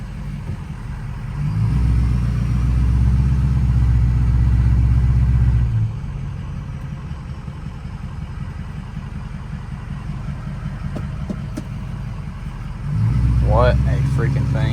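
Loud truck engine revs: a few seconds of strong revving, a drop to a lower rumbling idle, then another surge of revving.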